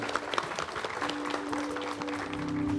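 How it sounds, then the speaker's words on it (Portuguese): Guests at a wedding ceremony applaud together, a dense wash of clapping that holds steady and swells slightly toward the end, with faint music and scattered voices underneath. "uma linda salva de palmas para Jesus e por noivo"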